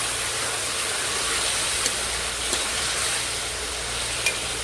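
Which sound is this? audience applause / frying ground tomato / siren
frying ground tomato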